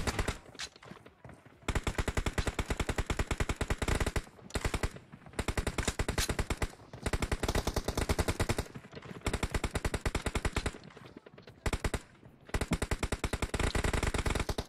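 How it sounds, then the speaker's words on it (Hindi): Rapid automatic gunfire in an online battle game, long bursts of machine-gun fire separated by brief pauses, loud and close, with no talk over it. "कौन गोली चला रहा है? क्यों गोली चला रहा है?"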